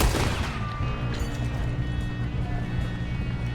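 Gunfire rings out in Red Dead Redemption 2: a loud shot opens the clip and then a dense, echoing stretch of firing and rumble carries on steadily to the end.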